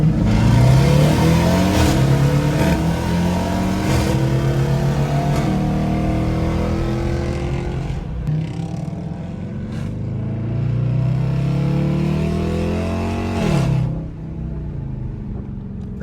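A car fitted with a new aftermarket exhaust pulls hard in sport mode, the engine climbing through repeated rising revs with gear shifts and burbles, loud and close, easing off near the end.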